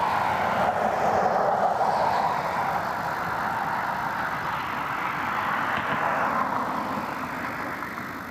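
An airliner taxis out for departure at Cleveland Hopkins airport on a breezy night, its engines giving a steady, broad jet roar that holds fairly loud throughout and eases off slightly toward the end.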